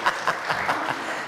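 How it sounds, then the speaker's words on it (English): Applause from a seated audience at a small-business event with a congressman, honoring the speaker's daughter; a short, steady burst of hand clapping, moderately loud and fairly close, with no talking over it. "round of applause for my daughter"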